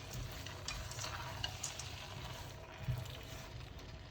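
Nuts are stirred into carrot halwa in a pan, a soft continuous scraping and gentle sizzle at low volume with a few faint clinks of the spoon.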